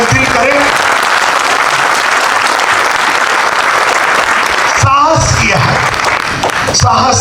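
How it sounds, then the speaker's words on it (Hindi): Loud, dense applause from an audience at a vision launch event, sustained for several seconds before thinning and breaking up near the end with some voices mixed in. "जोरदार तालियां अगर दिल करें"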